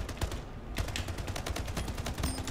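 Rapid assault rifle fire from the portal-based shooter Splitgate crackles in continuous bursts. Quieter distant shots from the same match mix in underneath.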